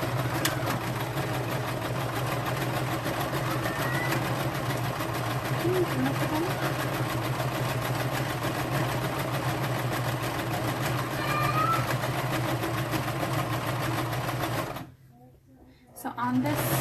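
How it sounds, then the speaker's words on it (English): A sewing machine stitches fabric cut from a men's T-shirt, running with a steady, close mechanical whir and rapid needle clatter for most of the clip before stopping briefly near the end. "I'm going to sew."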